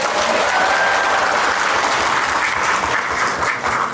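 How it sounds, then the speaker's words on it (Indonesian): An audience at a Lampung small-business food event bursts into steady, dense applause, loud and continuous throughout. "Tepuk tangan."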